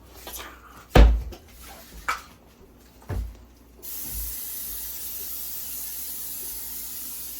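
A few knocks and clatters, then a steady hiss of cooking oil spraying into a pan on a stove burner from about four seconds on, holding evenly to the end.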